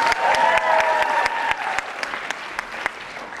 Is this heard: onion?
no